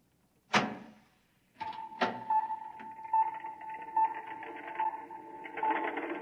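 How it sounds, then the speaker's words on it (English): A door opening as a radio drama sound effect, with a sharp knock-like click, a short gap, then a second latch click followed by a steady whirring electrical hum with faint mechanical ticks. "Open the door."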